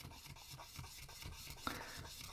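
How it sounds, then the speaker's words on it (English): Acrylic is wet sanded in circles, a soft continuous rubbing rasp with a gentle rhythmic rise and fall, faint and close. "when I sand, I tend to go, let's say, in circles"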